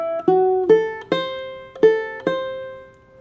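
Plucked ukulele notes ring out one at a time, five clear picks in a short, bouncy riff, close and alone.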